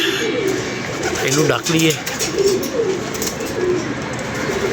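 Pigeons coo softly in a rooftop loft while a person talks to them, the low rolling coos breaking out between and under the speech at moderate distance.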